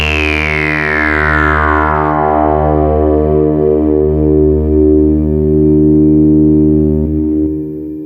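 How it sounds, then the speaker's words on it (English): Behringer TD3-MO bass synth run through delay, reverb and distortion guitar pedals, a loud sustained distorted drone whose bright filter sweep falls away over several seconds, pulsing gently before tailing off at the end. "If I lower the reverb amount a bit and the delay, turn up the distortion a bit,"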